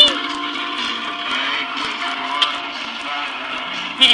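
A child's ride-on toy Ferrari car drives along with a steady electric whine and mechanical hum, continuous and fairly close, with a brief bump near the end.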